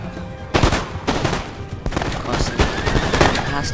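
Musket volleys crack out in Napoleon: Total War, several loud overlapping gunfire bursts coming in quick irregular succession. Each volley rolls into the next, and shouted voices sit underneath.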